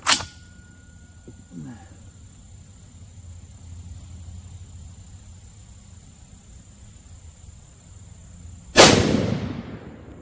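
Two sharp, loud cracks from a .22-250 bolt-action rifle with a long barrel, one at the very start and one near the end, each with a fading outdoor echo, separated by quiet background with faint insects.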